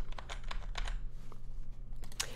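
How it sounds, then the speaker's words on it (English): Computer keyboard keys, likely the arrow keys, are tapped while nudging an image one pixel at a time in a design tool, giving a run of close, crisp clicks at an uneven pace. "you can also use the left, right, and up, down arrows on your keyboard to shift it one pixel at a time"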